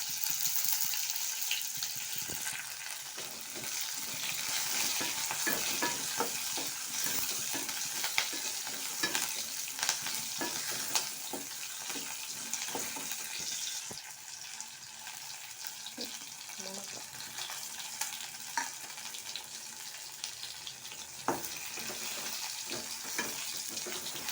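Onions sizzle and fry steadily in oil for a Tamil kuzhambu, with frequent clinks and scrapes of stirring over the constant hiss, close and fairly loud throughout.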